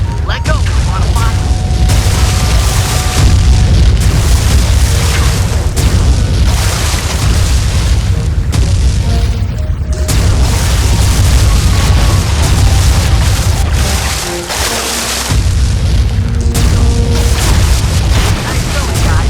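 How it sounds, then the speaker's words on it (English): Cannon shots fired from a rowboat in Sly 3, heavy booming blasts repeating over a loud, dense background of game sound and music, with speech at times. "Murray rows and Sly mans the cannon."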